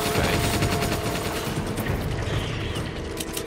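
Rapid, continuous gunfire from Resident Evil 5, a dense run of repeated shots with mechanical clatter filling the whole stretch at steady close loudness, no talk.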